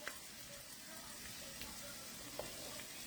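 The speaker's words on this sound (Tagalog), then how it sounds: "Lalagay ko na yung sibuyas." Onions frying in a pan, a soft even sizzle heard faintly with a few light pops, no voices.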